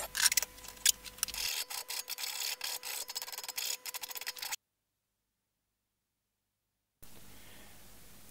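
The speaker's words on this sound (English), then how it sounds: "I then sand off the end that I cut so there aren't any shell edges." The cut end of a piece of brass wire is sanded, giving close, scratchy rubbing strokes in quick irregular bursts, followed by a few seconds of silence and then faint background noise.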